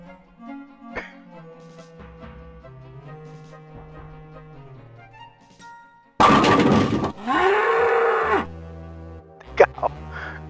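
A cartoonish cow moo in the DOS video game Day of the Tentacle follows light game music and comes with loud, noisy bursts, then the music resumes faintly.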